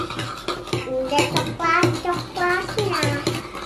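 Dalgona coffee mixture of instant coffee and sugar being stirred by hand in a bowl, with repeated clinks and scrapes in an uneven rhythm while someone talks over it.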